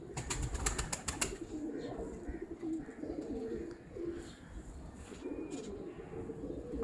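Pigeons coo softly in a loft among several birds, low repeated calls under a rustling background, with a burst of clicks near the start and faint voices nearby.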